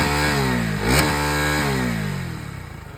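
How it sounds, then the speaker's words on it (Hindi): Stock-exhaust KTM Duke 250 motorcycle, loud and close, one sharp throttle blip rising and falling over a steady mid-pitched idle that settles back to a rhythmic putter. "अभी ये KTM ड्यूक 250, इसका एग्जॉस्ट नोट ये भी स्टॉक है।"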